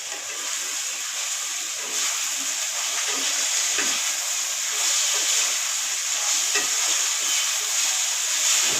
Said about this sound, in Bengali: আলুগুলোকে কাঁচামরিচ পেঁয়াজ ভাজার ভিতরে দিয়ে দিব, দিয়ে একটু নেড়ে চেড়ে মশলাগুলোর সঙ্গে একটু মিশিয়ে নেব।